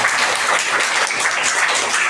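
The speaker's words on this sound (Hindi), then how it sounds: "ताली मारिए।" Loud, dense applause from an audience at a school academy event, continuous clapping filling the whole stretch.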